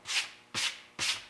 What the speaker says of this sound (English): I sanded this with 220 and then to 320, and then I finished it off with 400.